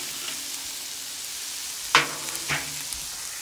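Cubed deep-fried potatoes with hamburger meat and squash hiss softly in a pan, with two brief clanks of stirring against the pan in the middle of a short, steady sizzle.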